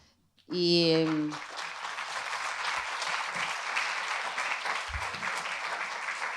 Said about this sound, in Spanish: les agradecemos y aplaudimos